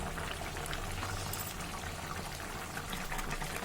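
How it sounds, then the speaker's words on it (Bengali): Rohu fish and taro curry boiling in a pot: a steady, soft bubbling and simmering, continuous and fairly quiet throughout. "পাঁচ মিনিট আমি ভালো করে ঝোলটা ফুটিয়ে নেব।"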